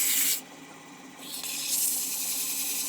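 Cherry wood being hand sanded with sandpaper: a steady dry rubbing hiss, louder for a brief opening stroke, then continuing more softly and evenly, close up and alone.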